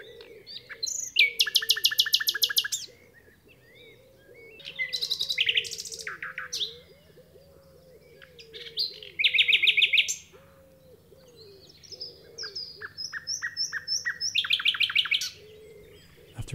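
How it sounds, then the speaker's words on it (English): A common nightingale sings from thick undergrowth in several loud, close bursts of rapid repeated notes and trills, separated by short pauses, over a steady low background hum. "The nightingale."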